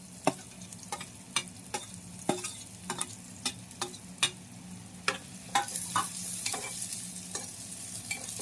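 Onions and garlic fry in oil with a soft sizzle, while a spatula scrapes and taps the pan in a regular rhythm. No one speaks.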